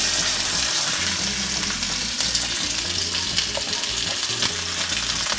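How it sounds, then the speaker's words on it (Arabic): Chunks of meat brown in hot oil in a pan, a loud, busy sizzle with crackling and spattering, plus clattering stirring and bumping through the clip, with no one speaking. "هنا أنا أريد اللحم بس ياخذ لون، يعني بس نحمره، بس نحمره من كل الجهات."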